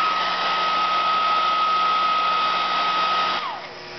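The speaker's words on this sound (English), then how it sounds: "Take your little heat gun now. I prefer the heat gun. As you can see, it's shrinking." A heat gun blows hot air to shrink heat shrink tubing over a soldered wire, giving a loud, steady whirring drone with a faint whine that winds down at the end.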